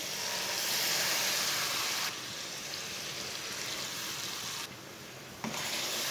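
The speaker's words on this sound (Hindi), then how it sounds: "दो कप पानी डाल लेंगे।" Two cups of water pour into a pot of fried masoor dal and spinach as a steady, fairly loud rushing stream with a brief shift in tone partway through.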